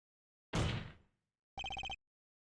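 A cell phone rings in the video game Ace Attorney Apollo Justice: a quick, rapid electronic trill that rings out alone and clearly, right after a brief noisy burst.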